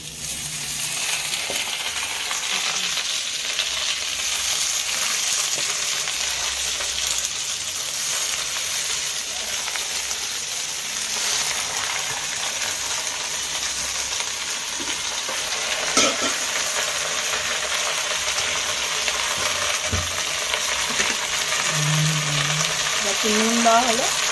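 Spinach frying in a pan sizzles with a steady, moderately loud hiss, broken by occasional scrapes and knocks as it is stirred.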